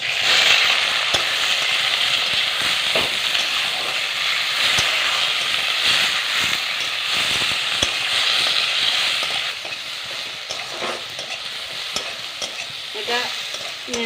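Dried red chilli, whole cumin, onion and tomato fried in oil in a pan, with a loud, busy sizzle and frequent stirring scrapes that ease to a quieter sizzle in the final seconds.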